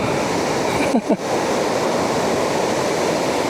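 Strong, fast river current in flood after a typhoon and monsoon rains, rushing as a steady broadband roar close by, with a brief louder splash or gust about a second in.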